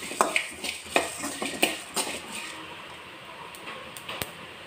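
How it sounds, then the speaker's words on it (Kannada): Mustard seeds splutter in hot oil for mango saaru, a close series of sharp pops and crackles that thin out toward the end, over a faint frying hiss. "ಸಾಸಿವೆ ಇವಾಗ ಪಟ್ಪಟ ಅಂತ ಹೊಡಿತಾ ಇದೆ"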